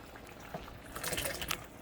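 Butter beans and their water tipped into a simmering pot of vegan oxtail-style gravy, a brief, soft splash and trickle that grows busier toward the end, quiet and close with no talking.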